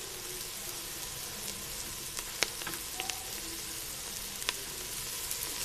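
Capsicum stir-fries with cabbage in a pan for fried rice, making a soft, steady sizzle with a few sharp ticks and light stirring clicks scattered throughout, with no voices.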